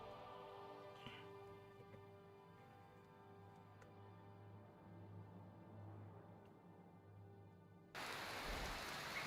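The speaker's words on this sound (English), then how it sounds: "Oh, it's raining." Steady soft rain patter with faint ticking in the video game Skyrim, then the rain abruptly swells louder near the end.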